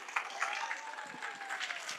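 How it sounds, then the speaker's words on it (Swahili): Applause from a crowd at a live security meeting with police bosses, steady dense clapping running throughout at moderate distance, with no pauses. "Makofi."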